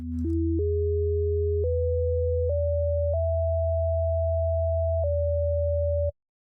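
Pure sine tones over a steady low drone climb in several clean steps, then drop slightly and hold to form a seventh, with soft clicks at each change before the sound cuts off.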